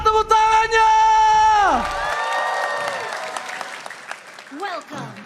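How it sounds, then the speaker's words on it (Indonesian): Crowd at an esports arena applauding and cheering, loud at first with a sustained whoop over clapping, then trailing off under someone talking. "So, MPL Arena,"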